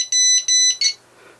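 A tBeacon BuzzyBo drone beacon buzzer sounds three loud, shrill electronic beeps in quick succession, the last one briefly warbling, then cuts off into near silence.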